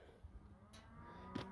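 Red angus cattle in a herd of cow/calf pairs low out in the open, with a few faint, drawn-out moos and some higher calls in the quiet mix, sounding rather distant.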